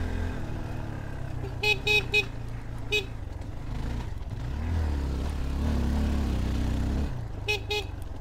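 A vehicle horn gives several short toots near the start and again near the end, over steady road engine rumble from a car or motorcycle at dusk.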